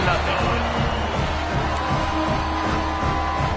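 A CFL football stadium crowd buzzes after a touchdown, a steady, dense murmur with faint cheering underneath, while a commentator talks over it.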